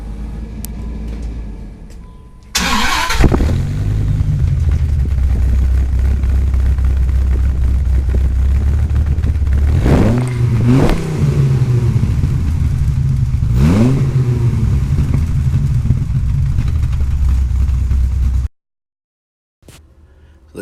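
A Dodge Viper with muted bullet-style turn-down exhausts and no tips starts up to a deep, steady idle rumble, then revs sharply three times before shutting off, close and loud.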